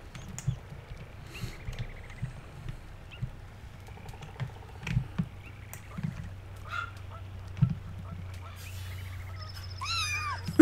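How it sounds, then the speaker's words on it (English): A cat in the Second Life video game meows a few times, soft and fairly quiet, amid light pattering and low background noise, with a person talking intermittently. "Oh, you're a cute little kitty."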